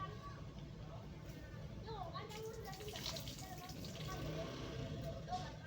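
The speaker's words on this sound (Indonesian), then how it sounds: "Kita bilas dengan air yang sudah saya campur dengan tanah" Water mixed with soil splashes and trickles as an object soiled by impurity is rinsed, faint gurgling and dripping close by, with soft voices and background murmur around it.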